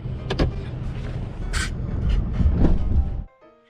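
A truck reversing under a trailer to engage its fifth wheel hitch, with a steady engine rumble, a couple of sharp metallic clicks and clunks as the coupling locks, then a quiet ending.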